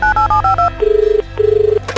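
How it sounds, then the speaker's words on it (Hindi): A telephone being dialed, with a quick run of five or six dual-tone keypad beeps followed by two long electronic ringback tones, clear and close with no talking. "और उसने उस नंबर पे फोन लगाया।"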